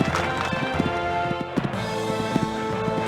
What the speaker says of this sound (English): This horse just cantering along this part of the course.